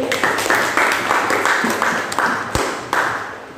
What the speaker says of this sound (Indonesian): Terima kasih, tepuk tangan untuk Didi.